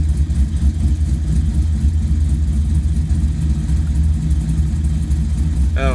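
A car engine idles steadily while warming up with coolant still cold, a constant low rumble that holds even and close throughout with no revving.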